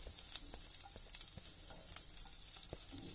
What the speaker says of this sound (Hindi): जब तक हम अदरक भून रहे हैं